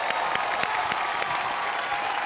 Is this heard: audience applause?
yes